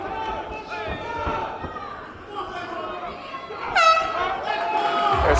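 Horn signalling the end of a boxing round at a live fight, a short blast rising above crowd noise and commentary, with chatter and arena din continuing around it.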